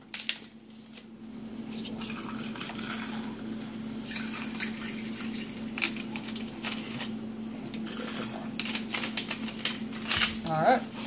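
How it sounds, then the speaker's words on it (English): Cola splashed from a bottle into a glass already holding rum, a liquid pour and fizz heard close up amid a steady background hum, with brief clinks and people chatting nearby. "And next up, splash of Cokes."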